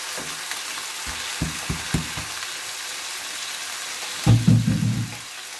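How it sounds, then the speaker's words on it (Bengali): Yardlong beans hit a hot frying pan already holding large fish, giving a loud burst of sizzling and crackling near the end, after a few soft knocks and clatters; no one speaks. "মাছ কিরা বসাবো, বিউরিটা দিয়ে দিতেছি।"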